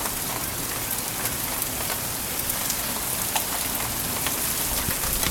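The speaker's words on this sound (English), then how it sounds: "we got hail about the size of BBs or something" BB-sized hail falls steadily in Denver, a dense, even patter with scattered sharper ticks and no voices.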